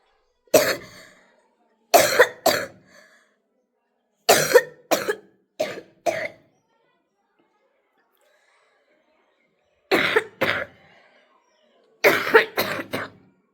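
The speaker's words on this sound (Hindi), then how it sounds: "खांसी इतना तेज से आ रही है कहिए मत।" Several bursts of harsh coughing, in clusters of two to four with silent pauses between, close and fairly loud.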